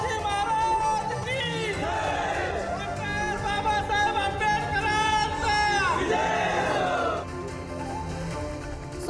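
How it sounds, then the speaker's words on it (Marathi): Large crowd of Maratha protesters in Kolhapur celebrating, chanting slogans and cheering loudly and continuously, with a dense mass of voices filling the clip. "मिठाई वाटत मराठा आंदोलकांनी जल्लोष केला यावेळी छत्रपती शिवाजी महाराजांच्या पुतळ्याला अभिवादन करत घोषणाबाजी सुद्धा करण्यात आली"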